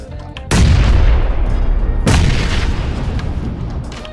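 Two loud, heavy grenade blasts in the shooter game PUBG, about a second and a half apart, each a sharp boom followed by a long rumbling decay, with no talking.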